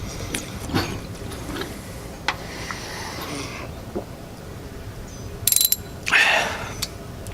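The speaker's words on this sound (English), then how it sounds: "Now you're going to use the 5/8 spark plug socket remover to remove the old spark plug." A ratchet with a 5/8 spark plug socket works an old plug out of a 2010 Chevy Malibu engine, giving scattered close metallic clicks and rasps with a few louder bursts near the end.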